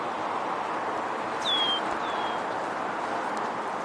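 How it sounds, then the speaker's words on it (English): A red-winged blackbird gives two short, thin whistled calls at a distance, faint over a constant broad outdoor hiss, with no one talking. "We're hearing a red-winged blackbird."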